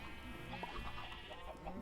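Chickens clucking in a video game farm, a short run of soft clucks close by over a steady background hum.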